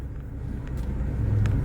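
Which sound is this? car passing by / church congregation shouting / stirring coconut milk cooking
car passing by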